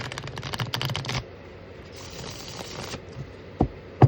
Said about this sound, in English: All right, 3 more shuffles for Alex, Great Spirit.